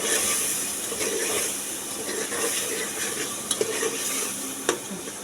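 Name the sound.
frying spices with Kashmiri red chili and salt in pan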